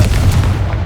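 A Confringo blasting curse in Hogwarts Legacy erupts as a single heavy boom, with a deep rumbling low end that rolls on briefly before fading.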